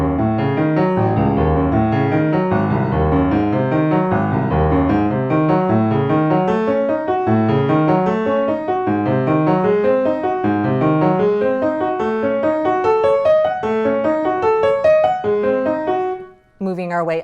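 A piano runs a fast scale exercise in steady rhythm, climbing the keyboard octave by octave, loud and close with no voices, then breaks off sharply near the end.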